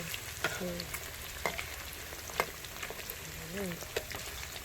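Catfish pieces with roe fry in hot oil until golden for a spicy catfish stir-fry, making a soft, steady sizzle broken by sharp clicks of stirring, with brief faint voices nearby.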